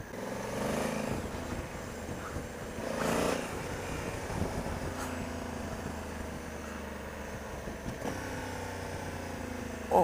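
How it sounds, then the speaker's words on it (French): Honda Africa Twin 1100 Adventure 2020 with DCT gearbox blipping its throttle on downshifts while riding, a continuous engine drone with brief rises under wind noise. "elle donne des petits coups de gaz quand on rétrograde"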